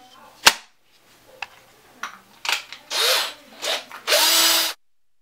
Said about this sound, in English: we're going to have to get out the power tools and pick the bit and start drilling